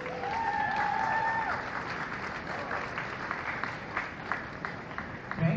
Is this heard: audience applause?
yes